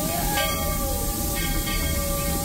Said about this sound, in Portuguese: Aí o trem, ó, chegando aos vagões.